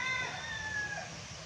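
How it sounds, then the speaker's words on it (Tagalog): A rooster crows once, a drawn-out call rising and falling, heard at moderate distance over faint outdoor background noise. "Tangkad na manok"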